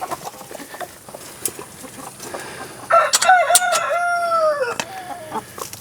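A rooster in a backyard chicken flock lets out one loud, drawn-out crow in the middle, with faint clucking and soft farmyard noise before and after.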